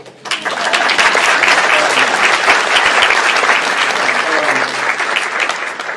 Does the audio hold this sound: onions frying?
no